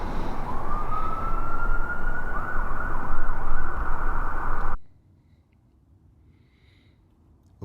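Emergency vehicle siren wailing at night in a residential area, loud and steady with a rising, sweeping tone over road noise, then cutting off abruptly into near silence with a faint click at the end.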